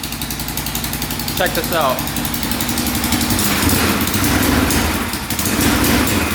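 A quad ATV engine held at full throttle but failing to rev out, running as a steady, loud buzzing drone throughout, with a person speaking briefly over it near the start.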